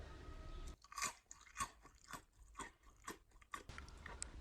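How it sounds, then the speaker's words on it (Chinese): Crisp bites and crunchy chewing on fried radish balls, a series of about seven sharp crunches spaced roughly half a second apart, close and fairly quiet with no talking. "掰开一个尝一口，那真的是嘎嘣脆，嗷嗷香"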